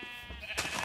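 A sheep bleats once in a video game, a short wavering cry that swells near the end, fairly close and clear over quiet background.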